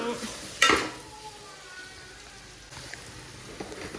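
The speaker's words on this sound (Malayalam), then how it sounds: "ചിക്കൻ വറുത്തുകൊണ്ട് ചിക്കനെ ചെറുത്തോറി ചിക്കനുള്ള സവാള വഴറ്റിക്കൊണ്ടിരിക്കുന്നു" Chicken fries and onions are sautéed in a home kitchen pan with a soft, steady sizzle and stirring scrapes. One sharp clatter comes early and a few light knocks follow later.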